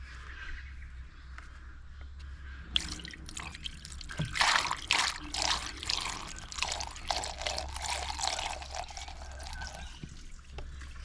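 Coolant pouring from a container into an excavator's cooling system with the drain cap left open, a steady trickling and splashing flow that swells partway through, fairly close.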